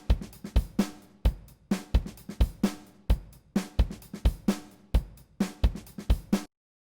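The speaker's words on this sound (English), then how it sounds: "we're going to be processing a little basic drum break that I made" A simple home-made drum break: punchy kick and snare hits with crisp cymbal or hat transients in a steady looping groove. The beat is close and dry, plays alone for about six and a half seconds, then stops abruptly.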